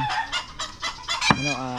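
Close, rhythmic clucking from chickens in a series of short pulses, ending with a louder, drawn-out squawk.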